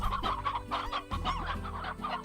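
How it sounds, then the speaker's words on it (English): Chickens cluck repeatedly in the video game Slime Rancher, a busy run of close, overlapping clucks and squawks over steady game ambience and a low musical drone. "So there were some chickens in there."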